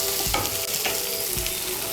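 Mung dal frying in a pan, a dense continuous sizzle with a few soft scraping stirs across two seconds, close and fairly loud with no voices.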